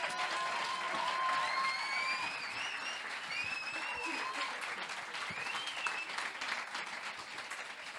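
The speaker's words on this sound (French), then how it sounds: "Merci de faire un tonnerre d'applaudissements à Valérie Thomé." An audience at an advertising awards ceremony delivers sustained, full applause lasting several seconds, with a few whistles and scattered cheers rising over the steady clapping.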